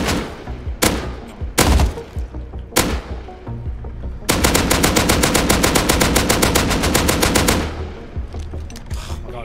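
AK rifle fire in the survival game Rust, starting with a few separate loud shots and then a long, rapid automatic burst of several seconds, close and dominant with no talk over it.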